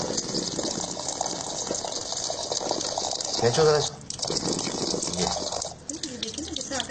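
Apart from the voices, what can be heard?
water running while washing kneaded flour dough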